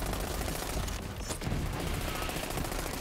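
Sustained gunfire from the Iron Bear mech's auto bear mode and the Hellfire gun in Borderlands 3, a dense, continuous rattle of rapid shots that stays loud throughout with no let-up.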